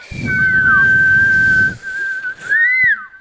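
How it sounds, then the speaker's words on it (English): A clear, loud human whistle holding a steady tone, with rising and falling slides at the start and a brief dip before a final sweeping phrase. "pretty good whistle, huh?"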